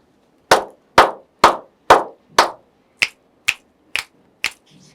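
Sharp percussive sounds used for counting: five loud hand claps in an even rhythm, then four crisp finger snaps at the same pace, close and clear with no talking.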